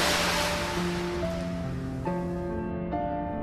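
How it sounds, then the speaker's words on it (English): A steam tank engine rolls off a quay and plunges into the deep sea, giving a loud, broad rush of splashing water that fills the clip, with low musical tones underneath. "the tank engine rolled towards the edge of the quay and plunged into the deep, cold sea"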